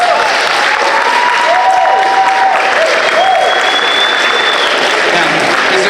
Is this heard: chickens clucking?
no